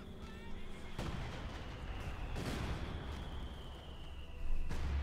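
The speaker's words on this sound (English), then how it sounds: "Lots of mortar fire. Lots of it." Mortar fire in the World War II strategy game Company of Heroes 2, with heavy booming blasts rolling over a continuous battlefield rumble, sharp impacts near one, two and a half and four and a half seconds, and a high whine running throughout.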